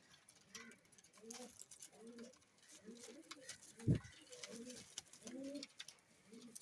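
Sialkoti pigeons coo in soft repeated low phrases, close by, with a brief louder flutter or knock midway and faint background murmur.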